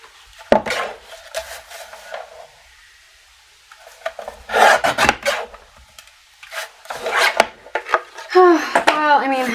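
Paper trimmer slicing down a cardstock card base for stamped cardmaking, heard as a few short rasping slides close by, with a voice talking between them.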